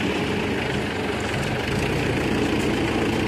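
A Mahindra Yuvo 415 tractor engine runs steadily close by, a loud, constant diesel rumble with an even low drone and no change in pitch or voices over it.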